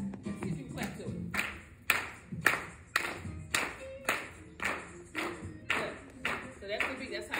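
Hands clap a steady gospel beat in sharp, evenly spaced claps, close and clear, about one or two per second.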